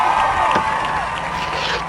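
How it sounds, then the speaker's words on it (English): An audience at a 1950s-themed live show claps and cheers in a dense, steady wash of crowd noise that stays loud and continuous throughout. "Clap, everybody."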